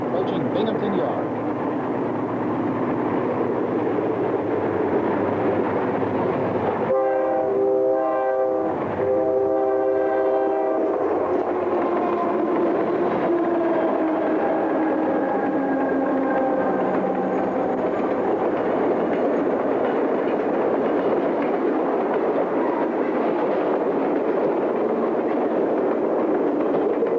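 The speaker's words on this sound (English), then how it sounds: "head up the westbound Sealand stack train approaching Binghamton Yard" A diesel-hauled westbound container stack train rumbles steadily past near Binghamton Yard, its horn sounding two long blasts early on, with the heavy roar of engines and rolling cars throughout.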